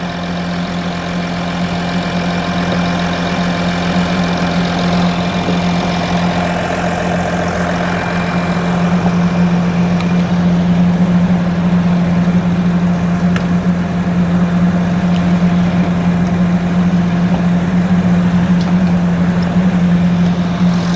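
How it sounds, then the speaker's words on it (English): An Audi Q7 engine idling steadily, with a constant low hum and faint knocking texture, close and loud with no talk. "Alright, so the engine is running."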